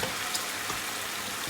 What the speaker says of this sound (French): je laisse mijoter l'ensemble pendant, allez, 1 minute top chrono